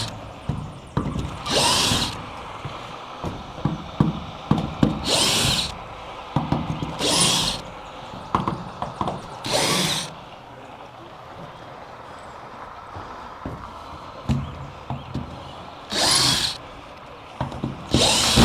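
A power drill backs screws out of a damaged roof in short, loud, whirring bursts, about seven of them spaced a second or two apart, with faint knocks and handling noise between.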